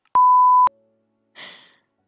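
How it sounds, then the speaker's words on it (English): A single steady electronic beep in the video game Funland 3, loud and clean, lasting about half a second with sharp edges, followed after a pause by a short breathy hiss. "Beep."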